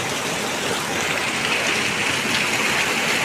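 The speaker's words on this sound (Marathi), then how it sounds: "ते जोरात पाणी पडतं त्यामुळे ते क्लिअर दिसतंय" Heavy monsoon downpour in Konkan, a dense, unbroken hiss of rain falling hard and steadily all around, loud and close, with no voices.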